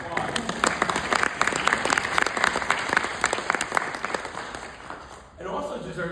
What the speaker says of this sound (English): So we do deserve a round of applause.